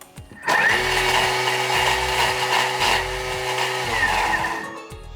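A Thermomix chops ingredients at speed 9 in a short high-speed burst of about four and a half seconds, a loud close whirring roar with rough grinding that winds down at the end.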